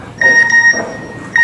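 Electronic notification beeps from a phone announcing an incoming text message: a steady high tone near the start, a second short tone later, heard up close over quiet room sound.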